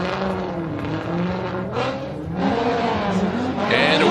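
Drift cars launch from the start line at a 2018 competition in Orlando, engines revving hard and rising in pitch, loud and continuous under a commentator's voice.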